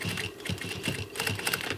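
An upholstery sewing machine back-stitches through a seat cushion cover, its needle clattering in a fast steady rhythm with short pauses, close and fairly loud.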